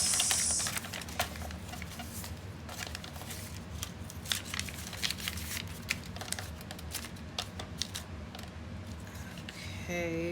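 Scissors snip through small pieces of paper for a collage on an altered file folder desk set, a string of quick, crisp cuts and rustles at close range, mostly alone with little talk.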